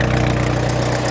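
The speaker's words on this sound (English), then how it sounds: "Good little engine." A 196 four-cylinder engine in an International Scout idles steadily nearby, a loud, even low rumble with a regular throbbing pulse.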